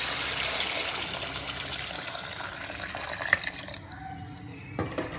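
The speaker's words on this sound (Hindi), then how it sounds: "अब हम इसमें पानी डाल देंगे" Water pours into a cooking pot of chicken pulao with potatoes, peas and carrots, a close, steady splashing rush that thins to a few drips and light trickles as the flow stops.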